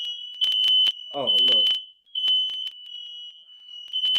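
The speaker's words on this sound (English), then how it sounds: "fire alarms in the house going off." Smoke-style fire alarm going off inside a house, a loud steady high-pitched electronic tone that repeats in pulses while a person talks briefly over it.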